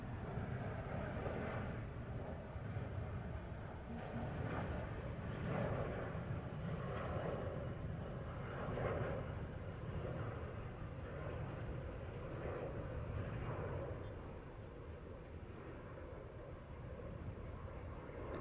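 Boeing 787 Dreamliner departing Heathrow runway 09R, a faint, distant low engine rumble that rolls on steadily and slowly eases toward the end, with no talk.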